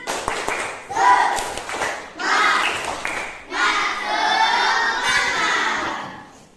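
Classroom children clap and chant together in a rhythmic 'tepuk semangat' icebreaker, with loud bursts of group voices and claps in repeated phrases, close and lively.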